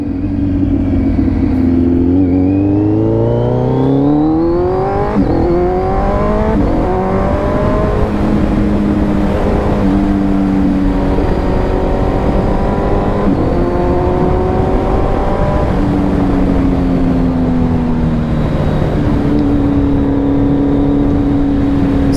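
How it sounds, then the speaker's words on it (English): Kawasaki Z900 motorcycle fitted with a LeoVince full exhaust, loud and steady while riding, its engine note rising and falling through repeated revs and gear changes with no talking. "I have a bike that's so loud and sounds amazing"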